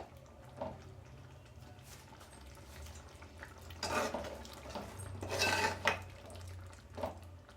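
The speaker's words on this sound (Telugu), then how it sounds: "అందుకని ఇలా నలుపుతున్నాను అనమాట రాజ్మాని" Cooked rajma beans being mashed in a pan for rajma tomato curry: quiet, intermittent scraping and soft clinks of a utensil against the pan, with a few louder bursts.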